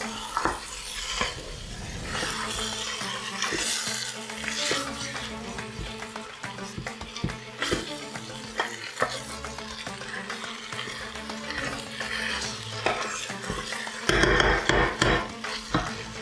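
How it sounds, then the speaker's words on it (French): Lamb couscous stew with tomato paste and harissa sizzles in a pot while being stirred, scraping and knocking repeatedly against the pot, close and busy throughout. "Je mélange un petit peu."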